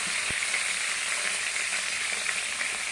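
Food fries in a hot pan with a constant bright sizzle and hiss, plus a couple of faint knocks of utensils.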